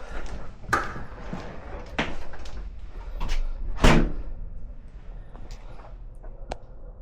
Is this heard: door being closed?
yes